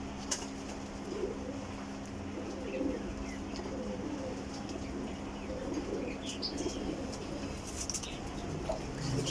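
Pigeons, a desi breed kept for flying, coo with soft repeated calls over a steady background hum, with occasional wing flaps and chirps mixed in.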